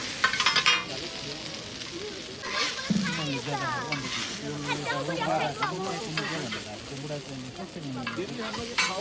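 Egg chow mein sizzles in a street-food pan while it is stirred and tossed, a loud steady fry under scraping stir strokes, with a voice talking over it.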